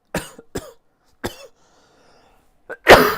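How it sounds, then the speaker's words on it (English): Close, loud coughs land right into the microphone in a few separate bursts, with brief quiet gaps between them and a heavier final cough, during a PS2 retro modding session. "Sorry guys for coughing in the mic."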